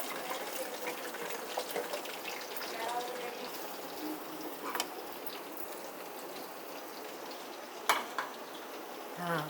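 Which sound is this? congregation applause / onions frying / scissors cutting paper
onions frying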